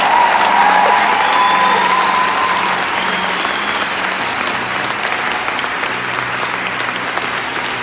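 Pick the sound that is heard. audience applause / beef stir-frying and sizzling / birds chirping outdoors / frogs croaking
audience applause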